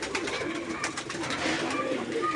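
Giribaz pigeons coo softly and repeatedly in a close, steady series, with faint background hum and no clear talk.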